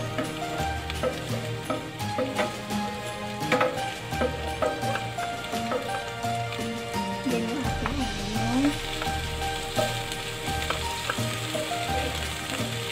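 Garlic fries in cooking oil in a pan, giving a steady close sizzle with crackling pops throughout.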